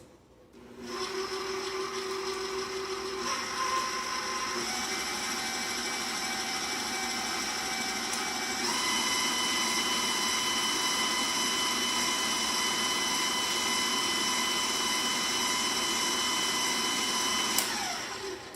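An electric mixer running on dry ingredients for sourdough banana nut bread, a loud, steady motor whine that shifts pitch a few times as the speed changes, continuous and close, then stops abruptly near the end.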